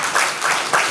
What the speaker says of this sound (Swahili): ningemuomba asimame tumpokee kwa shangwe